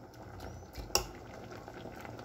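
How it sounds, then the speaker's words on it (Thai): Quiet bubbling and soft popping of water starting to boil in a pot for mushroom curry, with one brief sharper clink near the middle. "แล้วรอน้ำเดือดนะคะ"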